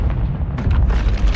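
Loud, dense low boom from a grenade explosion in a horror short film set among toys, a continuous rumbling blast filling the whole moment with no clear talk.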